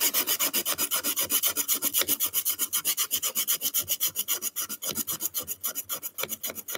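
A garden tool blade is worked over 320 grit abrasive in quick, rhythmic rasping strokes, close and steady throughout, with no voices.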